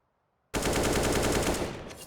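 Automatic rifle fire in Counter-Strike: Global Offensive erupts abruptly after a moment of silence, a loud rapid burst of evenly spaced shots sustained for about a second and a half before trailing off.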